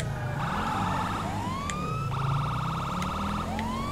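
A police siren in the video game Grand Theft Auto V wails in repeating rising and falling cycles, steady and fairly loud, with an engine rumble underneath and no talking.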